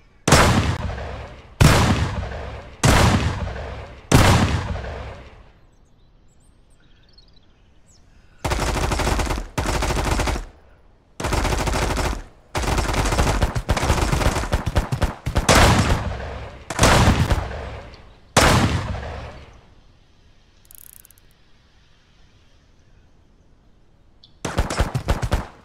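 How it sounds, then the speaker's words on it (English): Bursts of automatic gunfire from AI soldiers in the survival game Mist Survival, several rapid volleys in short clusters separated by pauses, loud and close, with a quieter gap before a final burst. "Shooting up everything."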